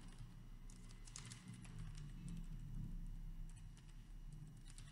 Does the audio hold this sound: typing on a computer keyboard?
yes